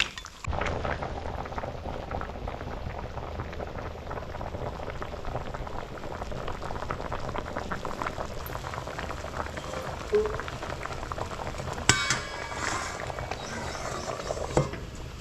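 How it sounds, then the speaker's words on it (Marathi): Crab curry boiling in a pot with hot water added to the gravy, a steady close bubbling and simmering that runs throughout, with a few sharper clinks or bursts near the end. "आता आपण कालवण तयार होण्यासाठी ठेवलेलं आहे बघा. गरम पाणी टाकले त्याच्यामध्ये"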